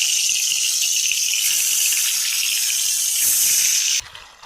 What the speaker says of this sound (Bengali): আর এই মাছটা এখন ভেজে নেব।